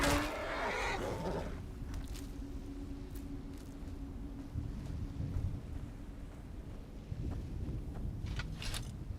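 A horse in Skyrim lets out a loud whinny at the start, then a low rumbling ambience with rain-like patter and faint clip-clop sounds continues.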